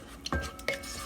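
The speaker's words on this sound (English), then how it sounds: "after adding my tamarind water, I'll just give it a nice stir" A spoon stirs egg beetroot curry with tamarind water inside a rice cooker, making two quick, close metallic scrapes and clinks against the pot with no talking.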